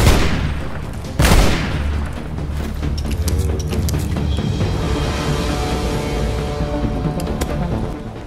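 Sniper gunfire in a video game: a loud boom near the start, then a second sharp crack followed by lingering rumbling echoes and scattered game noise, no talk.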